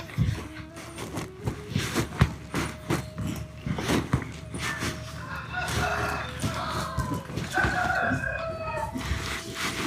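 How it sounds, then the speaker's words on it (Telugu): A rooster crows clearly a couple of times amid clucking hens and other farmyard noise, fairly close by. "కక్కరొక్కో అంటుంది కోడి"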